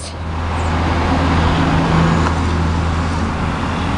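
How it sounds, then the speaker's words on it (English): Heavy road traffic with trucks rumbling past, a loud, steady low drone with engine hum that swells and holds close by throughout, no voices. "Stupid trucks."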